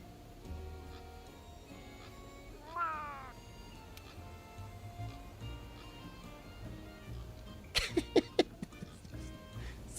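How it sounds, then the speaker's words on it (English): A cat meows close by, one rising and falling call followed later by a quick run of short sharp meows, over a quiet indoor room hum. "Why is this cat just, like, staring at me?"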